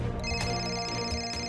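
A mobile phone rings with a steady, continuous electronic ringtone, close and clear, alone without speech.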